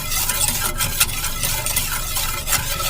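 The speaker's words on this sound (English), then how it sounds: "you just want to whisk and stir the whole time so that way nothing is sitting on the bottom and getting hot and scorching" Vanilla cream pie filling whisked and stirred in a pot with continuous rapid swishing and scraping, close and fairly loud, with no voices.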